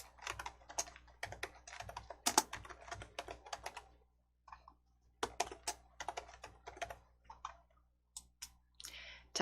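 Rapid computer mouse clicks from someone building block code in the Entry coding tool, sharp close taps coming in quick bursts with short pauses between them and no voices.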